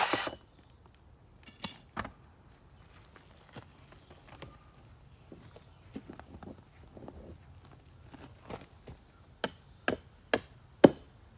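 Stakes being driven into timber retaining wall ties, a scatter of sharp close knocks and taps at irregular intervals, with a run of louder strikes near the end and quiet gaps between.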